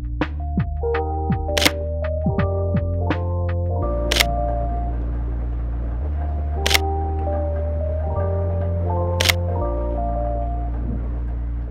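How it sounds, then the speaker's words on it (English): Several sharp Sony a7 III camera shutter clicks ring out at intervals over a loud, drifting musical background. "Shutter release sound."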